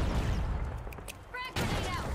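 A frag grenade is thrown in The Finals video game amid bursts of distant gunfire and booming explosions, with a loud, dense wash of combat noise throughout and a brief voice partway through.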